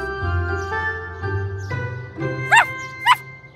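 A small cartoon dog gives two short, bright yips in a children's animated scene, set over a soft musical bed with light jingling and tonal sounds.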